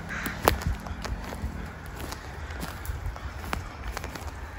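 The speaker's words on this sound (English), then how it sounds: "Those are some upset crows." Several upset crows caw in a forest above a creek, their calls scattered and fairly distant over rustling and footsteps.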